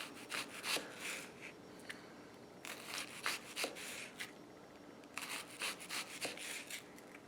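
A knife slices through half of a large onion on a board, giving quiet, repeated crisp cutting strokes in uneven bursts. No one speaks.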